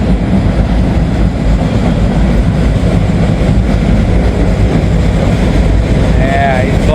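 A long freight train rumbling past close by, a loud continuous roar with wind buffeting the microphone and someone speaking over it.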